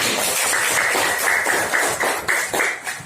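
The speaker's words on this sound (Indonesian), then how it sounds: "Tepuk tangan untuk Melati." Classes of students applaud a classmate in a math lesson, with a brisk, dense burst of many hands clapping close by, some claps landing in a loose shared rhythm.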